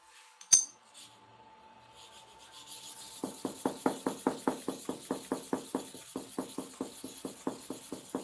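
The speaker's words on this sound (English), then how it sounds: "You see the blade? I want to sharpen it." A hair clipper blade is sharpened with a steady run of rasping strokes, close and fairly quiet, about three per second and repeated more than a dozen times after a short knock and a faint hum.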